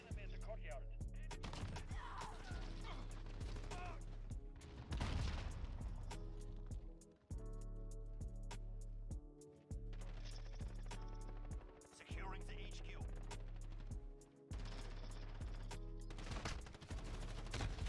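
Shotgun blasts and other gunfire in a Call of Duty Modern Warfare match, repeated booming shots over steady game music and effects, with a player talking throughout.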